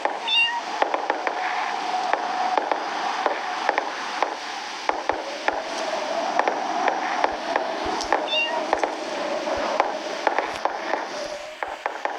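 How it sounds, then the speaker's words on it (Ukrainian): A cat meows again and again close by in the video game Standoff 2, its cries repeating steadily over light clattering and background noise. "Чуєте котик?"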